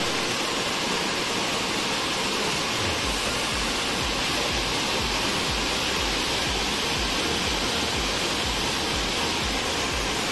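Mountain streams swollen by heavy rain rush near Chinchali dam, a loud, continuous broadband roar with a low rhythmic pulsing underneath and no talk.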